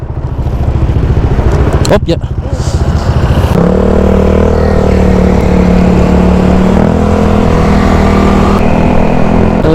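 A motorcycle engine idles, revs and pulls away loud and close, its steady mid-pitched drone rising in gear; a rider speaks briefly over it at the start.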